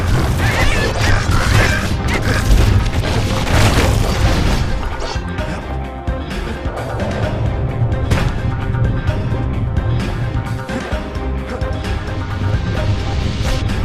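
Explosions and crashing impacts from security skiffs firing in the game Bastion, loud and dense for the first few seconds, then settling into a steady rumbling, clattering bed of game sound with music.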